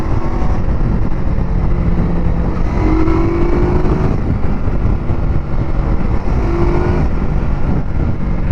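A Cyclone RA401 cruiser motorcycle runs at steady speed, its deep, full exhaust note droning loud and continuous with a low rumble, heard up close while riding, with wind noise throughout.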